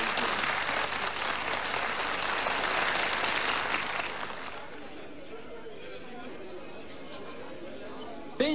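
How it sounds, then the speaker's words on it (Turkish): Audience applause and chatter greet a surprise guest artist at a Turkish comedy show, a dense broad wash for about four seconds that then drops away to a quiet room. "Büyük bir alkış."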